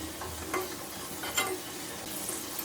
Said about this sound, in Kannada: ಈ ಥರ ಚೆನ್ನಾಗಿ ಫ್ರೈ ಆದಮೇಲೆ ಈ ಥರ ಗುಂಡ್ಗೆ ಬಾಲ್ ಥರ ಆಗಿಬಿಡುತ್ತೆ.